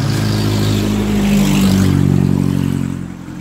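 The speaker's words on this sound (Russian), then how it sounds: "Мне кажется, ему надо перебрать движок." A car engine revs steadily with a low, strong hum. It swells slightly and then fades toward the end, loud and close, with no talk over it.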